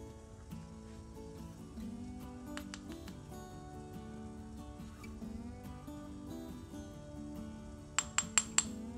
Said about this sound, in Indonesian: Dan ini cuma diketuk-ketuk aja, tujuannya biar dia ngerata.